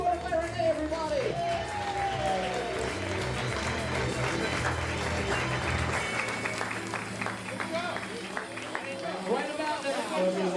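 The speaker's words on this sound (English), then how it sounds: "let's have a round of applause for Christy, escorted by Renee" Wedding guests applaud in a crowded room, a steady wash of clapping mixed with cheering and chatter. An announcer's voice rises over the start of it.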